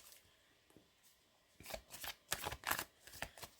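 Tarot cards are shuffled close by in quick papery riffles and flicks, starting faintly and becoming a brisk, louder run of card slaps toward the end.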